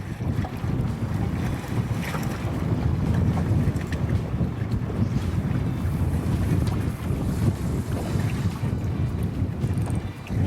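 Strong wind buffets the microphone out on open saltwater flats during redfish fishing, a constant loud rushing roar with lapping water underneath and no speech.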